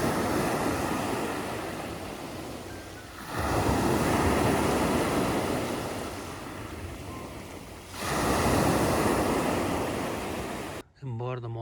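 Sea waves at Fethiye on the Turkish coast surge and wash in two broad swells, with steady surf hiss and wind noise throughout, ending abruptly.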